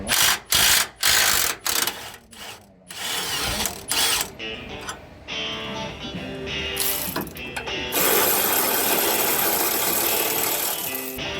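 Ratchet wrench clicking in rapid bursts while unbolting the rack and pinion mounting bolts on a first-generation Toyota Tundra, loud and close, with pauses between runs and a steadier stretch of ratcheting near the end; no talking.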